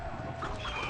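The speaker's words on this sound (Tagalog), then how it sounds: "Yung kalaban natin Manok na Bundat." Chicken enemy Manok na Bundat in a video game, set in a Mythic Forest, giving a brief soft clucking over a steady game background.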